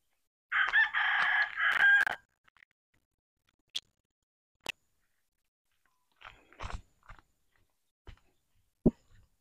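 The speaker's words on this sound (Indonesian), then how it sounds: "Ayam-ayamku berkekok, kekok, kekok." Roosters crow loudly and close by in one long call, followed by scattered clucks and brief knocks and clicks in an otherwise quiet outdoor yard.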